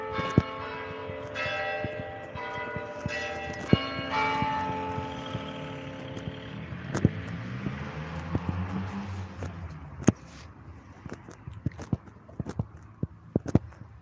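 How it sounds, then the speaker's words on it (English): Church bells toll in overlapping, ringing strikes that slowly decay, loud at first and fading, with sharp clopping footfalls punctuating the later part. "Oh, the bells do toll."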